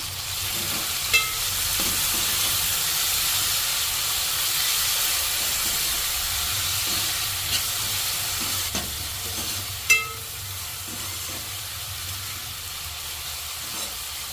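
Chopped tomato stirred into misal masala frying in a pan, a steady broad sizzle with occasional scrapes and clinks of the spoon, close and continuous with no talk.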